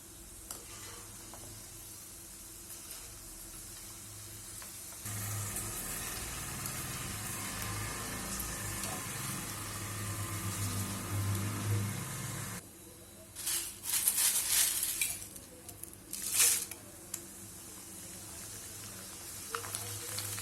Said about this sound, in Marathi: आता यामध्ये मका पोहे आहेत ते तळून घेणार आहे.